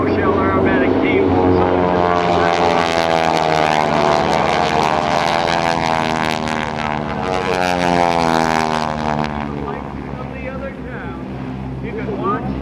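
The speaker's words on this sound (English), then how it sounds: "So this is the Aeroshell Aerobatic Team." Propeller aerobatic aircraft of the Aeroshell Aerobatic Team performing at the 2013 Dayton airshow, a loud steady engine drone with Doppler-like pitch sweeps as the planes pass, continuous throughout with crowd voices underneath.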